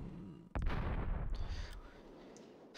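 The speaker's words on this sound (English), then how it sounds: "Funny how the enemy artillery is more accurate than my cannons." Enemy artillery fires in the Warhammer Dark Omen video game, a single heavy boom followed by a long rumbling decay with a few faint crackles as it fades.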